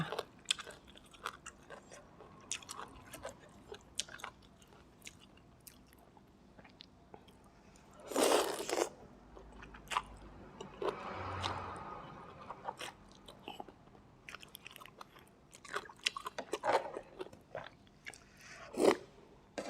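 Quiet, close biting and chewing of khanom jeen rice noodles with thick coconut curry of tilapia fish, eaten with long beans, cabbage and basil leaves, with a few louder crunchy bites standing out among soft mastication.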